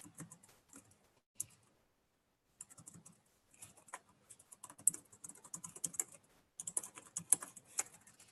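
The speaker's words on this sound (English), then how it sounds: "I'm just typing, talking to myself" Typing on a computer keyboard at a desk, bursts of quick light key clicks separated by short pauses, close and clear with no speech.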